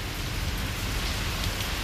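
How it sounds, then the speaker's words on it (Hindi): Torrential monsoon rain pours steadily over a house lawn in Islamabad, a dense, continuous hiss of heavy drops with no break across the whole stretch and no voices. "अल्लाह ताला रहमत की बारिश बरसाए"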